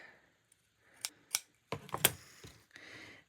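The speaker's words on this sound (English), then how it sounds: "So I'm going to cut out" Scissors snipping paper to cut out small insect-themed passports, a few sharp separate snips with short pauses between them, close and fairly quiet.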